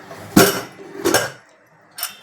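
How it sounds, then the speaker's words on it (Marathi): Three sharp metallic clanks of a pressure cooker lid being handled, spaced unevenly, close and fairly loud with no talking. "आता आपण कुकर खोलून घेऊया"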